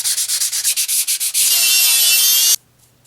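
Metal is sanded to open up a tooth. A rapid run of short, rhythmic rasping strokes gives way to one sustained, loud grinding pass, then stops abruptly, all close up with no talking.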